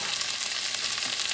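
Tomatoes sauté in a hot pan for stir-fried tomato scrambled eggs, giving a steady, close, even sizzle with no voices.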